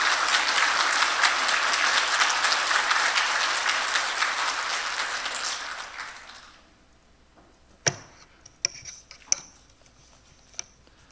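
A church congregation applauds in welcome of Pastor Lim Dong-jin, a full dense clapping that fades out after several seconds, followed by a few scattered sharp knocks and taps in near quiet.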